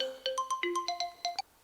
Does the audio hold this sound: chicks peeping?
no